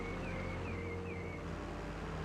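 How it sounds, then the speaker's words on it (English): Steady rushing water from a creek and waterfall in the Farming Simulator 22 game world, a continuous broadband wash heard alone, with a faint tonal engine-like drone underneath. "That waterfall's nice back there, isn't it?"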